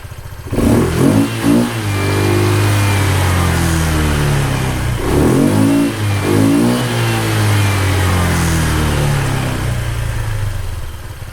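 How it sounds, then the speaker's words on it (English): Honda ADV 150 scooter on its factory exhaust with an aftermarket variator and intake, revved close up: a few sharp throttle blips, then sustained rising and falling engine drones with a buzzy tone, loud and alone. "Now that's pretty much factory exhaust sound, just with the variator and an intake."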